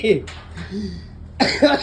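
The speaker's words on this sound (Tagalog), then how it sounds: "inuubo na ako sa sigarilyo" A person coughs a couple of times close by from cigarette smoke, with short harsh bursts separated by a pause.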